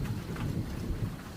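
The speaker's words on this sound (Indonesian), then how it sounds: "Gemuruh petir dan halilintar menambah melodi semakin menyedihkan." Steady rain with low rumbling thunder at night, a continuous wash of rainfall under a deep, distant roll, fairly quiet and with no voices.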